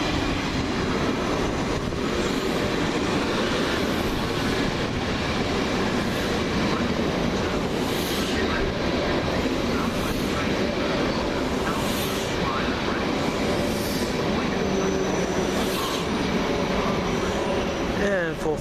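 A British Rail Class 458 electric train passes close by, a broad sustained rumble and rush of wheels on rail with brief squeals, while someone talks over it throughout.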